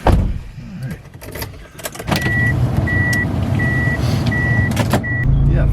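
Eagle Talon fitted with a new Boosted Fabrications mustache brace setting off on a drive: a door thud and engine start give way to a steady road rumble, while a repeating electronic chime sounds at intervals.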